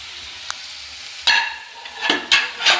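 Prawn meat frying with tomato in a pan for a prawn roast gives a low hiss that swells into several sharp sizzling bursts as it is stirred, close and loud in the final second.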